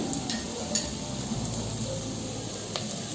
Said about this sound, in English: So as the green chilies are getting tossed